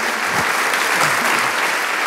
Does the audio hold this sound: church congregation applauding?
yes